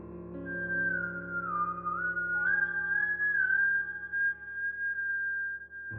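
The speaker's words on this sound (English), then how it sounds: "Whistling, faint and uneven, like someone trying to remember a tune they hadn't heard in years." Someone whistles a tune faintly and unevenly, one wavering melodic line that bends in pitch and holds long notes over a quiet, still background.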